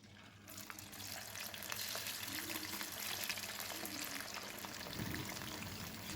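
Cauliflower 65 pieces deep-fry in hot oil with a continuous close, even sizzle and crackle, a few brief bubbling bursts, and no talking.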